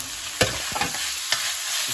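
Tomatoes stir-fried in a pan for Hyderabadi bagara baingan give a steady close sizzle, broken by a few sharp scrapes and knocks of a spatula as they are stirred.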